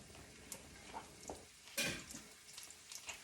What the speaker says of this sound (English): I'm going to add the rest of the garlic to the pot now